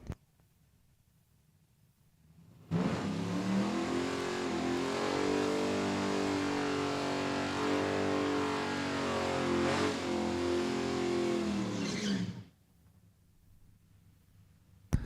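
A race car at Saskatchewan International Raceway revs hard for about ten seconds to warm its rear tires, a loud, sustained engine roar that starts abruptly and cuts off sharply, with quiet pit ambience before and after.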